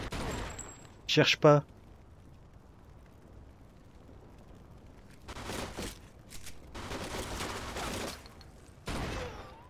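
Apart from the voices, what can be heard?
gunfire in the video game Mafia 2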